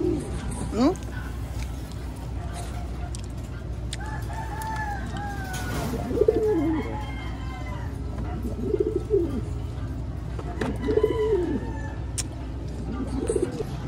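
Pigeons coo close by in repeated rolling bursts over a steady background hum, with a person talking at times between the calls.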